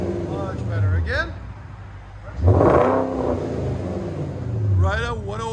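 A 2017 Porsche Cayenne S with a 4.8L V8 and dual exhaust fitted with Vibrant resonators revs hard, with one loud surge in the middle, close up, and people talking before and after it.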